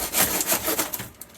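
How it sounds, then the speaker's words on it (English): Rapid back-and-forth strokes of a hand saw rasping through a hard bamboo stalk, close and rhythmic, tapering off near the end. "All Steven's hard work sawing this bamboo paid off."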